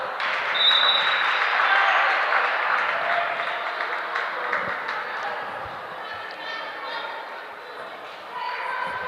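Volleyball teammate on the sideline of a gym match clapping and cheering the players on, lively applause and shouts mixed with squeaks and court noise, with a commentator talking over it.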